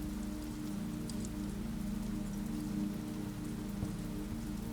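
Steady rain falling on a surface, a dense continuous patter with a low rumbling undertone and no voices.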